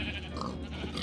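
A sheep bleats in a farming video game, one short nasal call heard close over a steady background of game sound, with no talking.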